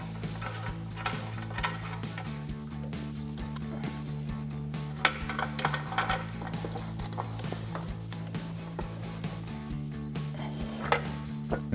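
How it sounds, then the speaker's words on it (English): An O2 sensor being worked loose from the exhaust of a 2009-2013 Chevrolet Silverado 1500 with a 22mm wrench or sensor socket, scattered metallic ticks and clinks over a steady background hum. "grab yourself an O2 sensor socket or a 22mm or 7/8 wrench and pop these out"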